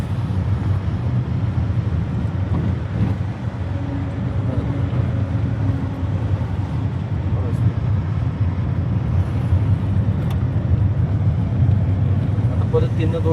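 Car rolling along during a driving lesson as the clutch is let out, a steady low engine and road rumble with wind noise throughout, an instructor talking over it.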